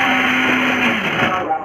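An electric blender whirs loudly, grinding dates with ghee into a paste, its motor pitch shifting slightly over a short burst, with a voice faintly present underneath.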